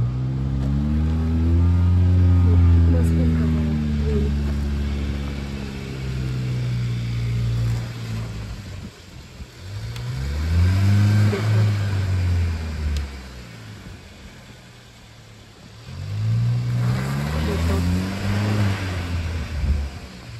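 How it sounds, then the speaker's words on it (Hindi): A Hyundai Creta Turbo stuck in snow on a Spiti mountain road revs its engine in three long, loud surges, each rising and falling in pitch as the wheels spin, with brief quieter idling between them. "गाड़ी बिल्कुल भी आगे नहीं जा पा रही है इतना रिवर्स में आ गए हम देखते हैं अब फिर रुक गई फंस गई इसके टायरों में स्नो फंस गई"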